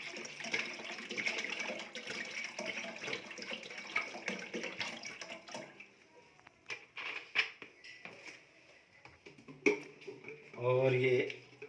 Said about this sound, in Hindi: ये 1 बोतल हमने डाल दी, ये दूसरी डाल दी।